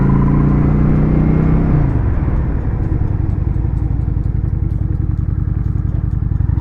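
Honda Shadow 750 motorcycle engine, close and loud, winding up as it accelerates to about 30 mph, then easing into a steady lower rumble with some clatter as the front brake is pulled progressively.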